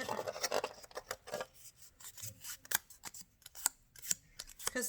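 Scissors cut scrap material in a run of crisp, closely spaced snips with light rubbing between them, close and quiet with no voice over them.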